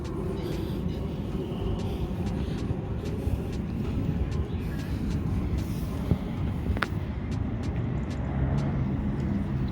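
A train rolls past beside a busy fun fair ground, a steady broadband rumble holding at an even loudness for the whole stretch, with a few faint sharp clicks on top.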